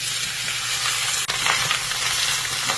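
Pork belly and boiled pork sizzle loudly in a very hot wok, a dense, continuous crackle with a brief stir partway through.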